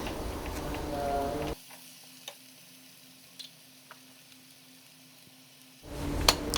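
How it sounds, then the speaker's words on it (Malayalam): Onions sautéing with salt in a pan, a soft sizzle with light stirring taps, louder at the start and end and dropping to a quiet hiss in between. "എന്നിട്ട് എല്ലാം കൂടി നന്നായിട്ട് തന്നെ വഴറ്റി കൊടുക്കുക."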